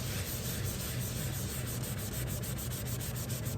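Ink and thick glue are rubbed off a surface with quick, repeated scrubbing strokes, close and steady in a brisk rhythm.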